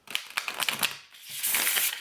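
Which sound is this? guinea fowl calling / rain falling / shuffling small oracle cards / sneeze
shuffling small oracle cards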